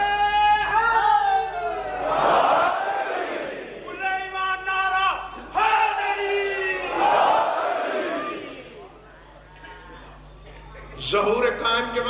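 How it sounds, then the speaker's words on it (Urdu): A large crowd at a Shia majlis chants slogans in loud, rising bursts, with surges of massed voices alternating with quieter gaps and a fresh swell near the end. "نعرہ بھی مجمع نے بانٹا ہوا ہے، کبھی اس حصے سے آتا ہے کبھی اس حصے سے آتا ہے"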